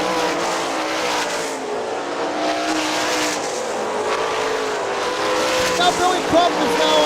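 Sprint cars race on the dirt oval at Hartford Speedway Park, several engines roaring continuously with rising and falling pitch, under a commentator's running play-by-play.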